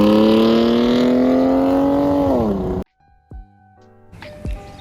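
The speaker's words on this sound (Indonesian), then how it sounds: "Akhirnya gue masang knalpot merek Eisenman. Dan suaranya gue suka banget sih" BMW Z3 roadster fitted with an Eisenmann exhaust holds a loud, steady rev for nearly three seconds before cutting off abruptly, followed by a few faint clicks and thumps.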